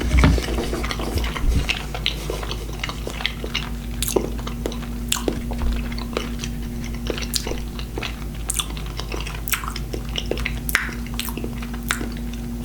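Close, wet biting and chewing of smoked salmon, steady soft crunches and squishes repeating through the stretch with a low hum beneath, no talking.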